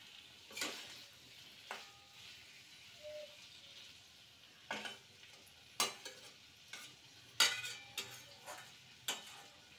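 Boiled potato pieces fried in spice masala, a faint low sizzle beneath sharp, irregular scrapes and taps of a spoon stirring against the pan.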